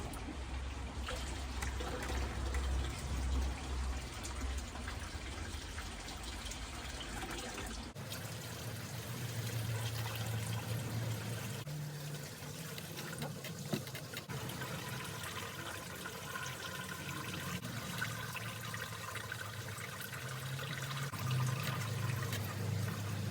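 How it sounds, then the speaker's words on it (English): Pond water trickles from a watering can into a bucket during an outdoor aquarium setup, a steady close pouring and splashing that shifts in tone partway through and runs on alone. "I'm just going to carry on filling it with the watering can into the bucket so it just trickles over."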